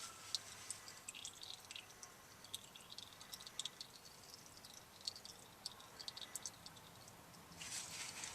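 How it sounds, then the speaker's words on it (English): Transfer case oil from a 2000 Ford F-350 drips from the drain hole, a faint, irregular patter of small drops at close range with no talking. "Down to a drip."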